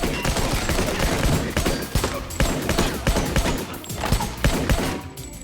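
Rapid gunfire from a John Wick action film scene, with dense bursts of shots and crashing impacts hammering almost continuously at loud, close range with no talk.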